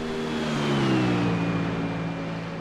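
Several GT3 race car engines in the iRacing video game at Spa whine and rev loudly, their pitch sliding downward as they pass in a close, roaring blur.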